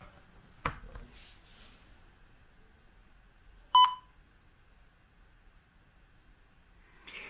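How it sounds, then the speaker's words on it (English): An Acer Swift 5 laptop gives a single short electronic beep as a 60 W Loglink USB-C charger is plugged in, a clear brief tone standing out from a quiet room with a few faint clicks around it. "we get that little beep showing us that the computer should be charged"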